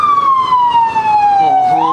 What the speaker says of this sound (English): There's our siren.